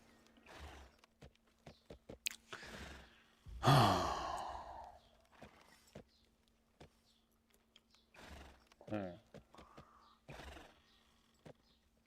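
A horse in the video game Black Desert Online lets out a loud, close whinny, then a second shorter neigh, amid snorts, breathing and scattered clip-clop hoofsteps.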